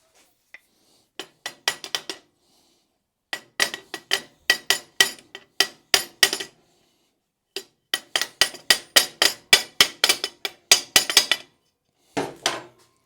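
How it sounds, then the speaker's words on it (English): A threaded piece is tapped into a footboard bracket on a 1920s Raleigh bicycle. Sharp, close metallic taps come in quick bursts of several strikes, separated by short silent pauses. "Just let me give it a tap and we'll get it in."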